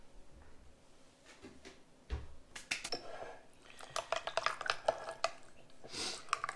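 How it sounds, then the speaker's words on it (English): Faint clinks and scrapes of a utensil mixing fish taco sauce with dill in a bowl, irregular light taps and stirring sounds that grow busier toward the end, no talking. "Give her a good mix."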